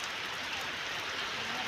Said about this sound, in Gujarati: પહેલી વખત હમણાં શરૂઆત કરી વરસાદ